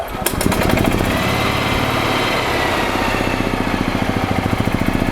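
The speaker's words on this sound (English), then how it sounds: "Turn off loads, start engine." A gas 2009 EZGO RXV golf cart engine cranks and fires, then settles into a steady, close, rhythmic idle with an even pulsing beat. There is no talk.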